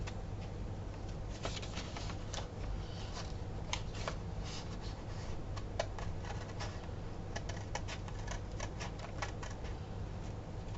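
Paper being cut along a marked line for a mini album, a steady fine crisp snipping and rustling close up over a constant low background hum.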